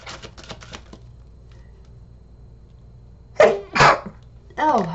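A person sneezes twice in quick succession, close and sharp, after some faint clicking, followed by a short vocal exclamation.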